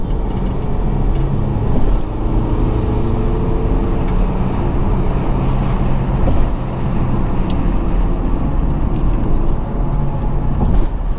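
A first-generation Skoda Octavia accelerates hard in third gear, its engine a loud, steady drone with a dense low rumble that holds for the whole stretch, no voices over it.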